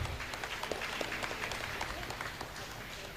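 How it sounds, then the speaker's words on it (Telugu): Audience applause breaks out at a church anniversary mass welcoming a visiting reverend father and priests, a dense, steady patter of many hands clapping throughout, with voices mixed underneath. "గట్టిగా చప్పట్లు కొడదాం"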